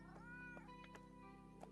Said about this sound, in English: We got loads of cats waiting to get into the store.